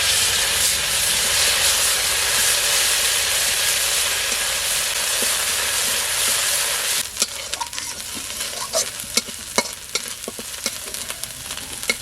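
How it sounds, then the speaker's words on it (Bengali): Cumin seeds and bay leaves dropped into hot oil left from frying fish for a sea fish curry, a loud continuous sizzle that abruptly quiets into lighter crackles and pops as the spices are stirred. "মাছ ভাজা তেলের মধ্যে ফোড়নের জন্য সামান্য জিরা আর তেজপাতা"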